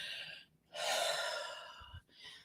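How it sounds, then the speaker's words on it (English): Deep, audible breaths drawn in and let out slowly, close to the microphone, in a few long strokes with brief pauses between them. "the reason that you'll hear me breathing"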